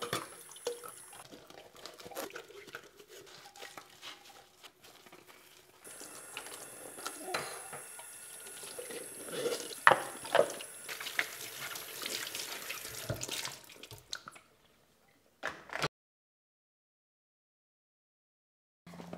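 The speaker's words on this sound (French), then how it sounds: "Par contre, tout le reste, on va pouvoir les laver avant de les utiliser." Running tap water splashing in a sink while parts of a Lidl blender are washed, a steady mid-level flow with small clinks and drips that stops near the end, leaving silence.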